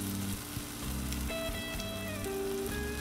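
Mojo-seasoned pork chops sizzle on a Blackstone griddle, a continuous close crackling fry with faint metallic scraping tones over it.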